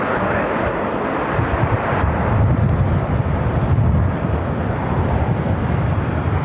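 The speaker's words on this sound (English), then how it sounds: "That's a flight coming in from Reagan National." Airplane arriving from Reagan National, a loud, steady roar of engines through gusting wind, rumbling continuously with wind buffeting the microphone.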